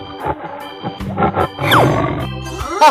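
A tiger in a 3D animal slide game lets out a growling roar over a bouncy game soundtrack, rising and rumbling for a few seconds.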